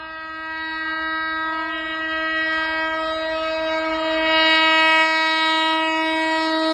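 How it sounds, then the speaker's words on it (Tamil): A Vande Bharat sleeper train running at 180 km/h sounds a long, steady, multi-tone horn blast that holds for several seconds, loud and clear over a low rumble of rail noise. "மணிக்கு 180 கிலோமீட்டர் வேகத்தில் வந்தே பாரத் ஸ்லீப்பர் ரயில் பறக்கும் வீடியோவை"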